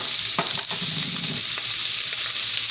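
Italian sausage sizzles and fries in a pan as it is broken up, a steady close hiss with scraping stirs and a few clicks of the utensil against the pan.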